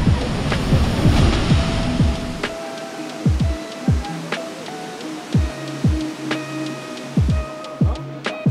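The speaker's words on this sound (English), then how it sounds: "Right under the waterfall now, getting a good amount of sprayage." Heavy rushing water pours and splashes from Ouzoud Falls in Morocco, with loud thumps and buffeting on the microphone as spray hits it from right under the waterfall.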